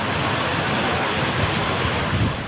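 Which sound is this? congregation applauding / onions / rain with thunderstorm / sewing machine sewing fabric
rain with thunderstorm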